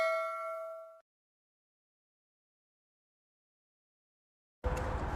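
Bright notification bell ding rings once with a clean metallic tone and fades after about a second, followed by silence and then a burst of new sound.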